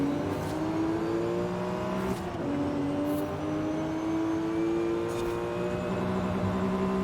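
A race car engine hums steadily in a video game night race, its tone sliding slowly upward with gear changes and one clear shift, moderately loud and alone with no talk.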